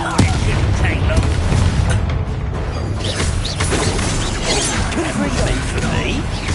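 Confringo blasting spell explosions in the Hogwarts Legacy video game: dense, loud booms and crashes roll on continuously with heavy rumble, and a voice speaks over the combat.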